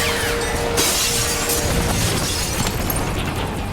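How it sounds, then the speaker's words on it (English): A glass corridor shatters during a film stunt for Resident Evil: Apocalypse, timed with a helicopter strafing pass. Loud, continuous crashing and breaking glass sits over a heavy rumbling roar with sharp bursts of smashing. "all the glass broke in the same timing as a helicopter strafing across"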